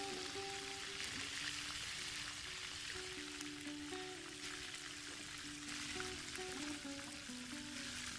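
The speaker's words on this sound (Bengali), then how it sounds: "এভাবে প্রতিটি সাসলিক একটু উল্টিয়ে পাল্টিয়ে নিয়ে ভেজে নিতে হবে।" Chicken shashlik skewers sizzle in hot oil with a steady, dense crackling hiss that runs the whole time, while occasional faint tonal kitchen sounds sit underneath.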